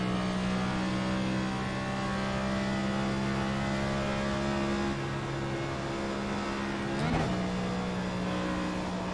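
Next Gen race cars roaring around the track in iRacing: a steady, loud engine drone with sustained tonal whine, a brief rising whoosh of a car passing close near the end.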